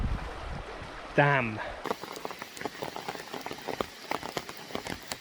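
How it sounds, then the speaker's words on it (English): A heavy rain shower in the Peak District, continuous pattering drops on surfaces close by, with a brief voice near the start. "it's supposed to be a light shower today, but it's absolutely, it's like being in the monsoon season"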